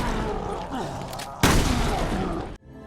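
Shotgun blasts in a survival horror video game: one sudden loud boom cuts through a dense game soundscape with a voice talking over it, then the sound drops off abruptly.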